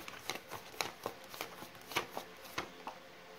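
Tarot cards shuffled by hand in a run of crisp, quick riffles and snaps, about a dozen sharp bursts at an uneven rhythm, close and fairly quiet, with no talking.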